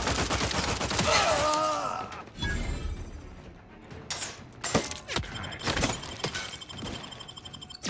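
Gunfire erupts during a firefight in the video game Outer Worlds 2, with bursts of sharp, loud shots and mechanical clanks scattered across the clip amid other game effects.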